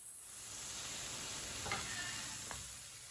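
A besan laddu mixture being stirred in a pan gives a steady sizzling, scraping hiss that runs throughout, with a couple of brief louder scrapes near the middle and end.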